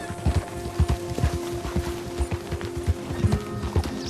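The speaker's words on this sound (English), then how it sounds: "Maybe the Morgan wasn't the best horse to choose for a cross-country trip after all." Hooves of a Morgan horse clip-clop in Red Dead Redemption 2 on a cross-country ride near southern tobacco plantations, a quick, regular rhythm of close, distinct hoofbeats.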